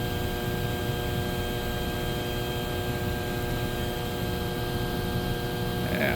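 A 1500W 110V handheld magnetic induction heater heats a bolt, giving off a steady electrical hum with high whining tones, constant and unbroken throughout.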